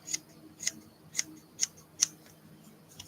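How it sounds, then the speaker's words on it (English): Small scissors snip through fur while trimming a handmade medieval-style cat art doll, five crisp, evenly spaced cuts about half a second apart, close and quiet. "These scissors are really good."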